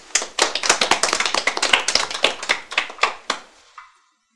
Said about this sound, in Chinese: 大家把掌声送给他。